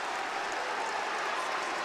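Crowd at a high school basketball game between New Trier and Evanston roaring and applauding in a steady, dense wash of noise that holds for the whole moment.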